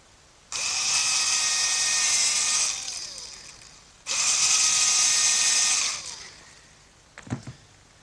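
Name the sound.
drilling pilot hole in hard oak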